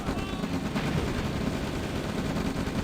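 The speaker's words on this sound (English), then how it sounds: "there's a lot of rockets there, a lot of rockets" Rockets fire in a crowded Red Alert 2 battle with medium tanks: a steady, dense rattle of rapid launches and impacts that carries through the whole stretch without a break.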